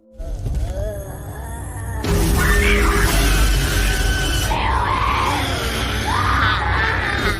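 A girl screams hysterically in a horror film scene, a loud sustained shriek with wavering pitch over a dense, dramatic soundtrack that swells after a quieter opening.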